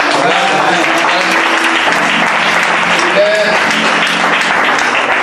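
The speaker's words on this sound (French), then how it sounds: "Je voudrais bien qu'on acclame le Seigneur pour la vie du pasteur Valé." A church congregation applauds in a dense, steady wash of clapping that lasts throughout, while a voice speaks over the noise.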